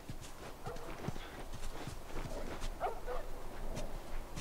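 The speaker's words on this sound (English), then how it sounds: "I hear a dog." Dog barking in The Last of Us video game, faint and distant bursts within a busy game soundscape with footsteps and ambient noise.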